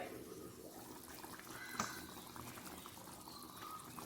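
Water is poured into a pressure cooker holding beef curry, a faint, soft trickle with one brief clink partway through.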